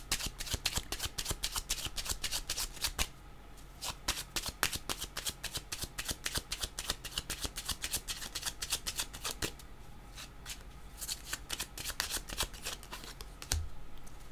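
A deck of cards being shuffled repeatedly, dense rapid riffling flutters in long bursts with brief pauses, close and clear with no talk.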